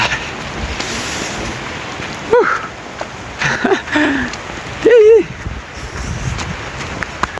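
Heavy rain pours on a university campus, a constant close hiss of drops on surfaces, while a person speaks intermittently over it.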